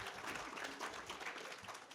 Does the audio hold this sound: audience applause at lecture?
yes